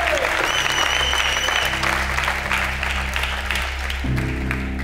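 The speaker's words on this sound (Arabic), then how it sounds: "عطولي تصفيق على إيتو" A studio audience at a television game show breaks into applause for Samuel Eto'o, a full wash of clapping that holds steady throughout over a low, sustained musical backing.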